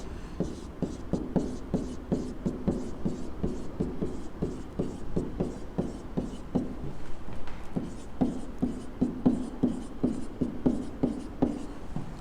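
Pen scratching steadily by hand as a long number is written out, a brisk run of short strokes with a brief pause midway, close and fairly quiet with no talk.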